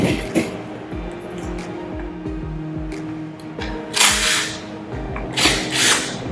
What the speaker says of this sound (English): So using a 1-inch socket, using our torque wrench.